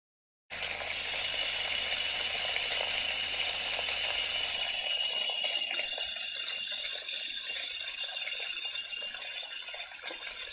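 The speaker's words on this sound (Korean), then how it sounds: "백색 소음기를 이제 틀어서 재워주시면 되는데," A white noise machine used to help a baby fall asleep gives off a steady, broadband hiss like rushing water. It switches on abruptly and holds a constant level throughout, with no talking.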